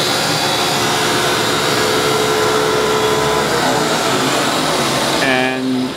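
A Republic/Lagun KMC 717 CNC knee mill spindle spins at 3750 RPM, recorded close up as a loud, steady whine with a broad airy hiss that holds unchanged throughout.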